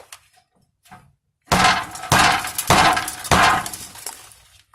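A 2.5 pound hammer strikes a fuel pump part on a 2008 Dodge Ram 5.7L, four loud, sharp metallic blows in an even rhythm, each ringing briefly, after a few faint taps.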